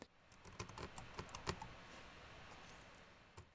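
Arduino code being typed on a computer keyboard: quiet, close key clicks in a quick, irregular burst that thins out, followed by a single keystroke near the end.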